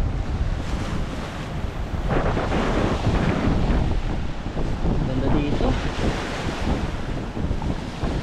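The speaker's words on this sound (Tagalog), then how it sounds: "Malakas ang alon, ang tataas oh." Strong, high ocean waves crash at Bolinao beach in a loud, continuous roar of surf with wind buffeting the microphone, while a person speaks briefly over it.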